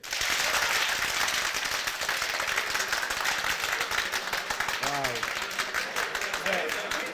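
An audience applauds a group that has just finished, steady dense clapping sustained throughout at moderate distance, with a brief voice breaking through near the end.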